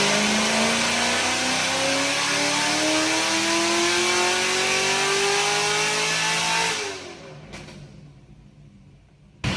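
A Chevrolet Camaro ZL1 engine revs on a dyno through a full pull, a loud, steadily climbing roar that holds for about seven seconds before cutting off abruptly into near silence.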